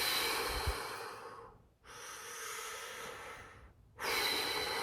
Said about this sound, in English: And take some deep breaths.